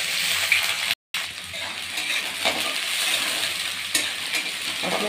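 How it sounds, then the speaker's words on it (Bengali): Onions fry in hot mustard oil, giving a dense, continuous sizzle close up, with stirring scrapes and small clinks through it and a brief dropout near the start. "প্রথমে আমি পেঁয়াজগুলোকে ভেজে নেব"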